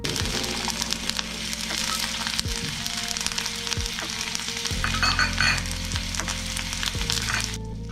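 Carrots, cabbage, beans, potatoes, peas and whole spices sizzle steadily in hot oil for veg pulav while a spoon stirs them, with soft scraping and clinks over a continuous, moderately loud frying hiss.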